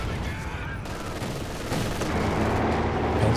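Machine gun fire in Company of Heroes 2, a dense, continuous rattle of automatic bursts mixed with battlefield rumble, loud and steady throughout.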